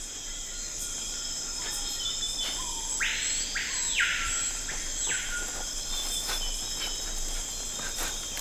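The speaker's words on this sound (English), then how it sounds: "This time in the Amazon rainforest." Amazon rainforest ambience: a dense, continuous layer of shrill insect and cricket chirring fills the air, with a few distinct bird calls rising over it near the middle.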